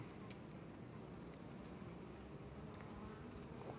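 Honeybees at a hive housed in a hollow tree trunk, with a steady, faint, close buzz of many insects continuing throughout and occasional louder passes of individual bees.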